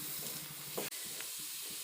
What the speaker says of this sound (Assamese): এয়া মোৰ গুড় উতলিব ধৰিছে